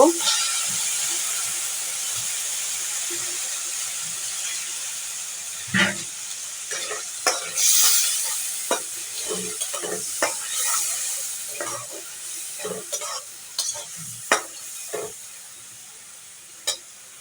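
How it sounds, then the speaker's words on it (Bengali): Shing fish being stir-fried in a spiced masala in a pan, a low hiss of sizzling broken by scattered scraping and clinking stirs that grow busier toward the end. "এখন আমি শিং মাছগুলো একটু কষিয়ে নেব।"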